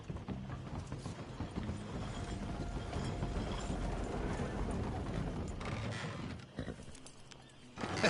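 Horse hooves clip-clop in a PS4 video game, a steady rhythmic trot with mechanical creaks and rattles, moderately close and without speech.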